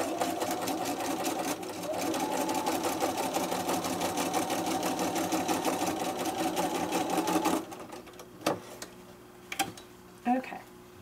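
A sewing machine stitches pieced fabric strips for a scrappy braid foundation pattern, running in a steady fast rapid chatter for about seven seconds, then stopping; a few light clicks and handling noises follow.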